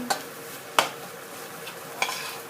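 Canned fish meat is stir-fried in a pan, a spatula scraping and tapping the pan in three sharp strokes over a quiet, steady sizzle.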